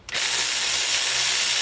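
A power tool loosens the 8 mm ABS sensor bolt behind the hub of a Ford AU Falcon, giving a steady, loud, close whirring grind that starts after a brief pause and runs without a break.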